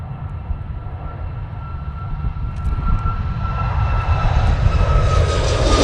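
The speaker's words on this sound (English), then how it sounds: "is the Ryanair going off to Krakow using the 737 MAX 8" Ryanair Boeing 737 MAX 8 departs Manchester Airport, its jet engines building from a distant rumble to a louder, rising roar with a high whine emerging toward the end.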